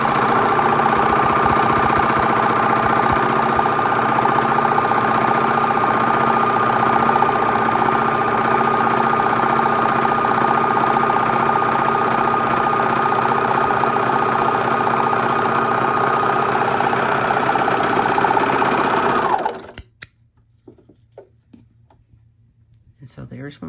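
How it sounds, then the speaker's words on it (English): Domestic sewing machine running steadily while stretching fabric for a lettuce-edge hem, a continuous close mechanical whir with rhythmic stitching that stops abruptly near the end. "You're gonna pull the front, stretch your material while it's sewing."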